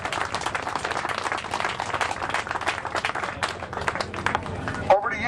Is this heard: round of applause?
yes